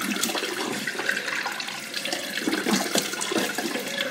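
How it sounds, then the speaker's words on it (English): Tap water runs steadily from a bathroom faucet during face washing, a continuous close splashing hiss with small irregular splatters and no talk. "I just use tap water, nothing so special."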